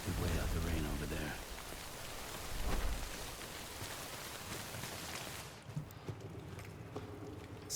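Steady rain falls in the video game Death Stranding, a dense hiss that fills most of the clip before thinning out near the end.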